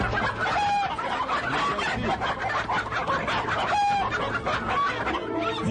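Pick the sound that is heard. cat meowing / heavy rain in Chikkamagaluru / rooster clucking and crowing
rooster clucking and crowing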